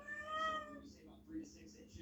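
A house cat gives a faint, drawn-out meow near the start while someone speaks quietly over it in a room.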